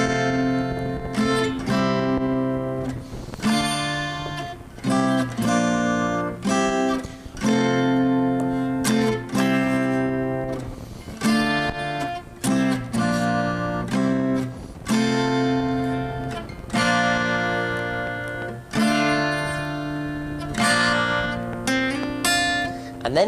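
Guitar slowly strumming the chorus chords of a song, repeated bright strums ringing out in an unhurried rhythm, close and clear with no voice over it.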